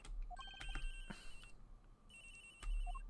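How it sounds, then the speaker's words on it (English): A cell phone rings in a video game, repeated electronic ringtone trills sounding in two bursts, fairly faint with no talk over it. "The ringing's coming from somewhere in here"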